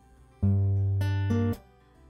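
A single guitar chord rings out: a low note first, higher strings joining in quick succession, then the sound is abruptly muted after about a second.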